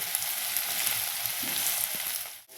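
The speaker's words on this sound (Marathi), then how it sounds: "मीठ घातल्याच्या नंतर हे परत एकदा हलवून घ्यायचं" Sautéed mixed vegetables sizzling steadily in a pan while being stirred, with soft scraping stirs and faint clicks, close and continuous without speech before a brief dip at the end.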